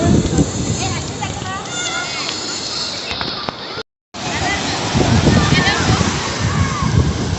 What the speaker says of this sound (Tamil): ஊதரி கடல்